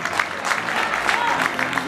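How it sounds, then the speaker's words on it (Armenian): Audience applause at a library event in a hall, dense steady clapping from a crowd lasting throughout, fairly loud and close. "Ես ուզում եմ ծափահարենք իմ ընկերներին"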